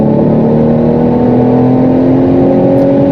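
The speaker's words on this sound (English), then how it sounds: "Alright, here we go, full throttle" A 380 hp Volvo V60 Polestar T6 accelerates at full throttle on the Autobahn, its loud engine tone rising steadily over a constant rush of road and wind noise with no talking.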